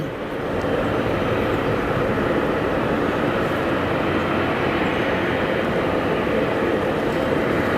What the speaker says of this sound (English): Actually go to a heavy departure, an American Dreamliner.